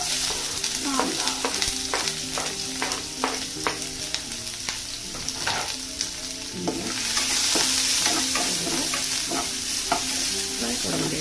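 Ginger, chili and onion fry in a pan with a steady sizzle and repeated stirring scrapes, the crackle swelling louder toward the end, with no talking.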